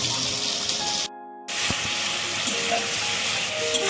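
Sliced onions fry in oil for a mutton curry, giving a loud, steady sizzle that cuts out for a moment and then resumes, with a brief clink of a spoon.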